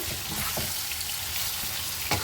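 Ground cumin, coriander, chili powder, salt and pepper sizzle in oil for a chicken curry, a steady loud frying hiss broken by a few scraping stirs of the spoon in the pan, with no voices.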